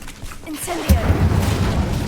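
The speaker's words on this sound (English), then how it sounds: "Confringo. Incendio. 听到声音就先炸一下。" An Incendio fire spell blast in Hogwarts Legacy lands as one heavy booming burst partway through, followed by a low rumbling tail, with a voice speaking around it.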